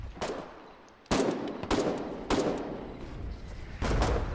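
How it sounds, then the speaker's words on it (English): Heavy 120mm artillery shelling in the war game Foxhole, landing near town safehouses: four sharp, loud booming impacts spaced about a second apart, each trailing into a rumbling decay. "Oh, I heard artillery."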